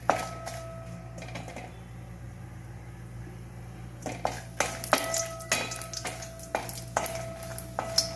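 Tamarind and chillies sautéing in a spoonful of oil in a pan, with a soft sizzle under a quiet hum and a series of sharp spoon taps and scrapes, busier toward the end.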